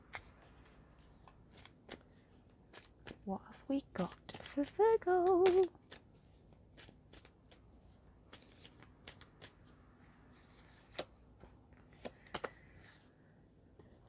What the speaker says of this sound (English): So let's shuffle your animal spirit cards